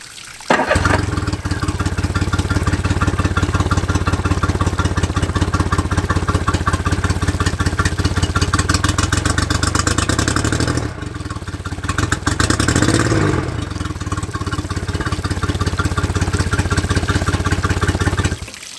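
A Honda 50 outboard motor runs on flush muffs, a steady close-up idle with rapid even firing pulses and mechanical clatter, briefly dropping around the middle before picking back up and settling into a slightly quieter idle.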